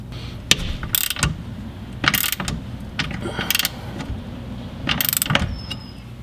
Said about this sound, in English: I'm gonna be using a 19 mil with my ratchet to take out the bolt found on that side